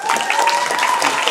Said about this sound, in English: let's give one last round of applause to everyone.